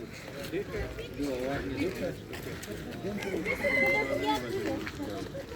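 Roosters crow and hens cluck close by amid a busy poultry market din in Płońsk, Poland, with people talking over the birds.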